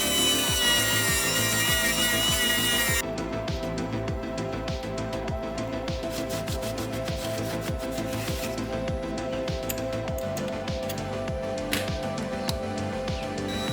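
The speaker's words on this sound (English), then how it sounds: "there's that silicone carbide impregnated abrasive wheel" A silicon carbide impregnated abrasive wheel on a power tool works lightly over stubborn deposits on 2020 Triumph Speed Triple RS 1050 engine parts, giving a steady motor whine with fast repeated scuffing contacts, close and continuous throughout.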